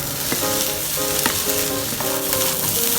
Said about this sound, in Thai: ทีนี้เราก็ผัดต่อครับ